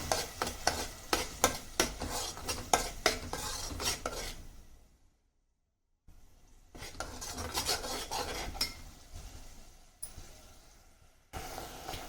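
Ground green masala frying in a pan for a Mandya-style fish curry, with a steady sizzle and repeated scraping strokes of a spoon, then a brief silent gap before the sizzle and stirring resume.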